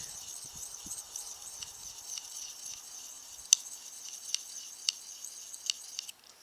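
A D2 steel knife is stroked across a DMT diamond sharpening stone, giving a faint, steady metallic hiss with several sharper scraping ticks toward the end.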